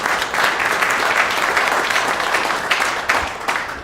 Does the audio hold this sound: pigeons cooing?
no